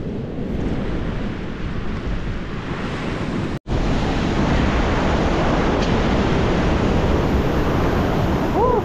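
Strong headwind roars steadily across the microphone while fishing, a dense, continuous rushing noise like surf, broken once by a brief cut.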